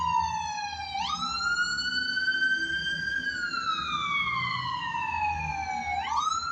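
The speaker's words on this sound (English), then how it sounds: "Ambulance." An ambulance siren wails continuously, rising and falling in long sweeping tones. It sounds fairly close and loud over low traffic rumble, with no voices.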